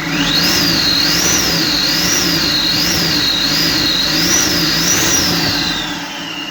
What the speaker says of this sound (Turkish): Turbo hortumlarından böyle bir ses yapabilir arkadaşlar. Tekrar gaz verelim.